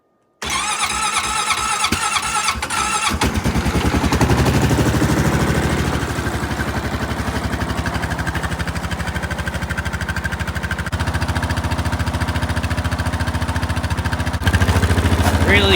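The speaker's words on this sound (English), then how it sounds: "So, anyways, Rubicon cold start." A Honda Rubicon 520 ATV engine cold-starts in freezing weather around 24 degrees: a brief cranking burst, then the motor catches and settles into a steady, loud idle close by, with a slight rise near the end.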